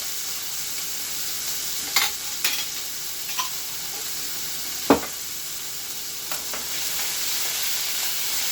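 Homemade salsa sizzles steadily in a hot pan with melting cheese for tacos, a constant bright frying hiss broken by a few soft stirring scrapes and taps.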